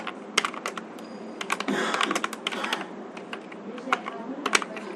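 Close, crisp keystrokes of JavaScript code being typed on a computer keyboard, coming in quick irregular bursts with a denser rattling run in the middle and brief pauses between.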